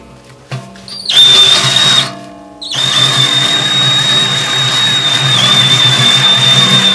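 Step drill bit boring through a stainless steel brew pot wall, a steady loud high-pitched whine with a sharp tone after a brief start and short pause, continuing close and constant.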